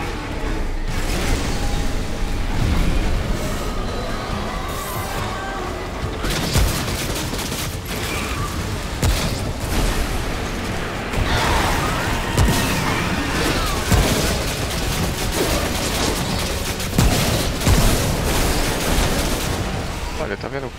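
Turrets in the video game Remnant: From the Ashes, during a boss fight against Tormento (The Harrow), keep up dense rapid gunfire and booming impacts with mechanical clatter throughout, loud and constant, with someone talking over it.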